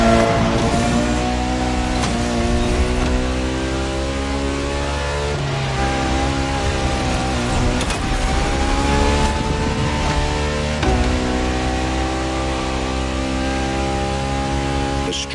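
A naturally aspirated Ferrari V12 hybrid car engine revs loudly and continuously, its harmonic whine sweeping up and down through repeated throttle swells and gear changes, heard up close with no voices.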